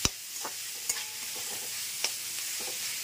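Shrimp, chicken and salted egg lightly frying in a pan, a soft steady sizzle broken by a few sharp clacks of a spatula stirring against the pan, with no voices.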